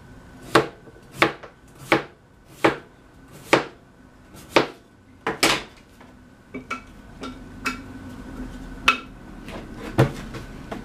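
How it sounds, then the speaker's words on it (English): Washed russet potatoes sliced with a knife on a cutting board, about fifteen crisp, evenly spaced thunks, close and clear with no talking. "I've already washed the potatoes and we're just going to do little slices of those"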